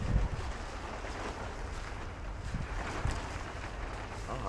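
Steady wind rushes and buffets the microphone outdoors on a cool hillside in Baguio, a continuous broadband roar with no talking over it.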